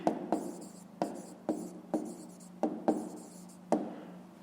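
A pen scratches across paper in short, separate strokes, roughly eight quick scrapes with brief pauses between them, close and quiet, with no voices.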